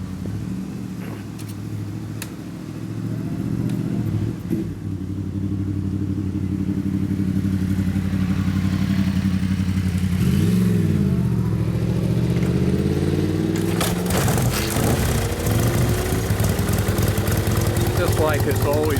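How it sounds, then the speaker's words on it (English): A 1956 Harley-Davidson FLH motorcycle engine runs steadily at a loud, close idle with a low rumbling throb, a rev swell partway through, and faint exhaust pops and mechanical clatter. "It's just a one-kick bike every time. And you can hear it pop a little out of the exhaust"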